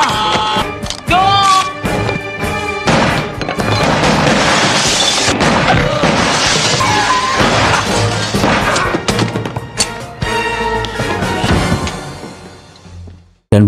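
Loud, dense shootout from the film Carlito's Way, with repeated gunshots and crashing impacts running almost nonstop for about ten seconds before fading out.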